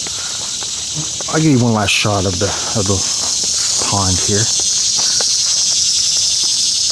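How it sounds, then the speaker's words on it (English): Cicadas buzzing near a pond along a nature trail at Shiloh National Military Park in Corinth, Mississippi, a steady high shrill hum throughout, with someone talking over it. "Cicadas going off around me."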